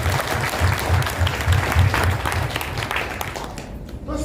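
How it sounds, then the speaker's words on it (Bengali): An indoor audience at a launch event in Guwahati, Assam, bursts into dense, sustained clapping that carries on for a few seconds before fading out. "আর নিজেদের জন্য একটা হাততালি ছোট।"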